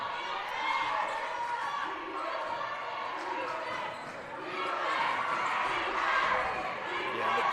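A basketball crowd at a women's college game cheers for the Cougars, with steady broad roar and shouting, ball bounces and squeaking action on court, and a commentator talking over it.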